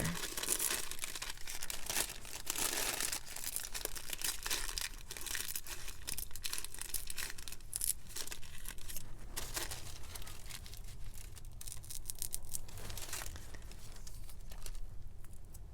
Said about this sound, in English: you're going to go the other way and tear the other side.